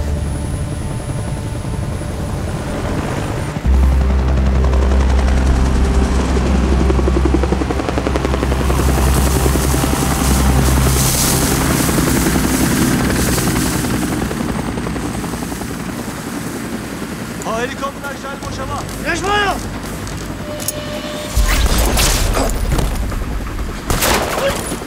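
Military helicopter flying overhead in a war setting near an Israeli outpost, a loud continuous rotor roar lasting throughout, with bursts of gunfire and distant voices mixed in.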